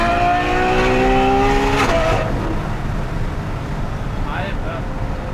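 Novitec-tuned Ferrari F12 N-Largo V12 engine holding around 5000 rpm while cruising, heard as a steady droning whine that drops off after a couple of seconds into a lower rumble, close and fairly loud.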